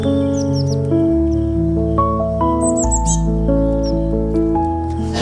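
Short bullfinch chirps and tweets ring out in quick high bursts over a bright, steady backing melody of cheerful music.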